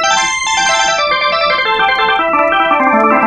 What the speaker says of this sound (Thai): ตอนนี้ก็จะเป็นเสียงออร์แกนเอาไว้เล่นแบบสไตล์ลูกทุ่งหมอลำ